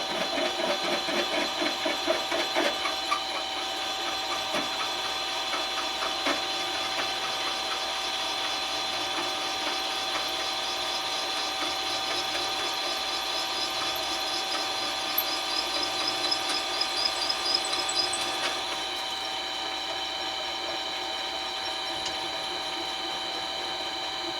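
A mini lathe drills out a metal workpiece with a steady whining hum and faint rhythmic ticking, continuous and close for most of the stretch, then easing near the end.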